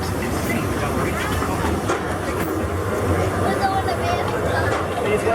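A Whiskey River Railroad train rolls past on the tracks, a continuous loud rumble with faint clickety-clack and voices talking nearby.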